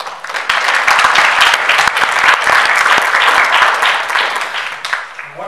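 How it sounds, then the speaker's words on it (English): A colloquium audience in a lecture hall gives the organizers a round of applause: loud, close, dense clapping that swells quickly, holds for several seconds, then tapers off. "So maybe we can just give them a round of applause for their efforts."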